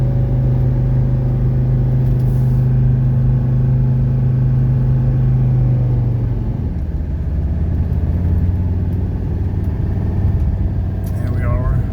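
Interior drone of a 1985 Mercedes 300CD coupe driving on a road with new suspension, a loud steady engine and road rumble that shifts in pitch partway through, with no voices.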